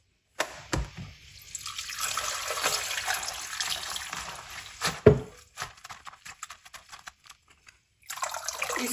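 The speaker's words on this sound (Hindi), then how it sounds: "अब इसको 2-3 पानी से धो लेंगे।" Cabbage is rinsed under running tap water in a kitchen sink, a steady close splash and trickle with clatters of handling, pausing briefly near the end before the flow resumes.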